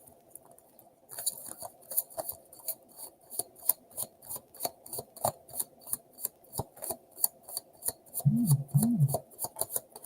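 Tarot cards riffle and snap in a rapid, uneven patter, close by, with brief pauses between bursts and a faint voice near the end.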